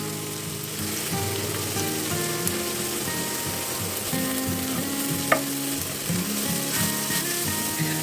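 Carrots sautéing in fat in a pan for Ukrainian borscht, a loud constant sizzle with stirring scrapes and one sharp clink, and no one talking.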